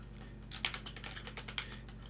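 Quiet typing on a waterproof computer keyboard: soft, irregular key taps at close range over a low steady hum, with a couple of sharper clicks standing out.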